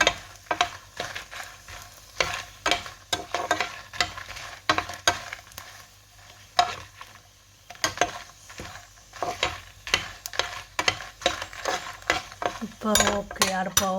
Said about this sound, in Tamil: மிளகாய் கலகலாண்டு வரும் வரும் வரைக்கும் பொரிச்சிட்டு